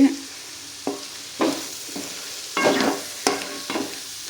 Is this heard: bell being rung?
no